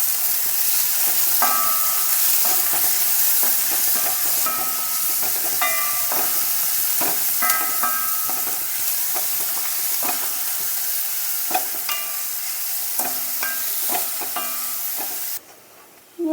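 Chopped onion and rock salt frying in a pan while being stirred, a steady sizzling hiss broken by repeated clinks and scrapes of the stirring spoon throughout.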